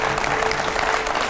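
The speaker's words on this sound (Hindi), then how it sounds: "ये देखिए, अखिलेश जी का स्वागत है, जोरदार तालियां।" Loud, dense applause from a TV studio audience welcoming Akhilesh Yadav, a sustained close wash of clapping with no gaps.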